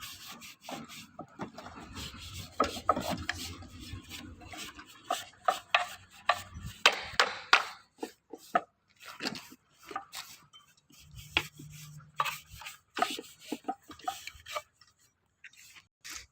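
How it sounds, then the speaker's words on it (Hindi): Steel concrete test cube moulds being oiled before a transit mixer arrives, with scattered metallic scrapes, rubs and light clanks, irregular and close, with no talking. "हम ऐसे ही सभी क्यूब्स को की ऑयलिंग करके रख देते हैं।"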